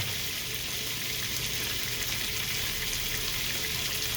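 Butter and garlic sizzling in a pan alongside swordfish, a steady, bright frying crackle holding constant and close throughout.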